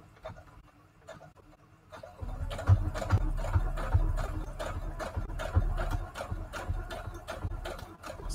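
A sewing machine set to a shortened stitch starts up after a quiet pause, then runs with a steady low mechanical hum and rapid ticking needle strokes, fairly close and without speech.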